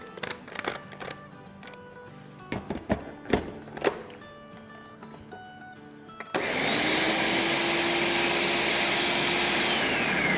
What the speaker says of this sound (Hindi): बस अब इसको ब्लेंड कर लेंगे।